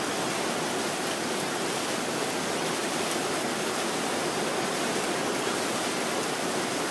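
A downpour of heavy rain makes a constant, thick hiss that stays at an even, loud level throughout, with no one speaking.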